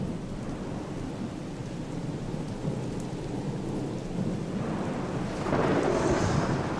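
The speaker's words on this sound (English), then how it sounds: "rain's picking up, wind's picking up." Heavy rain pours steadily with gusting wind during an incoming storm in Ethiopia, a low rumble of thunder underneath, swelling louder toward the end.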